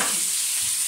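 Steady, close sizzling of chicken pieces frying in a hot pan, a dense crackling hiss filling the short moment with no voices.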